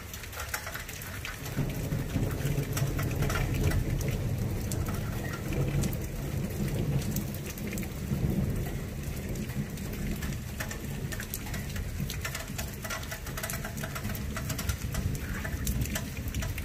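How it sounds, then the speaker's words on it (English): Heavy rain pours steadily during a severe thunderstorm, loud and continuous with low rumbling thunder beneath it and faint bird calls in the background. "Been getting hit with non-stop rain here."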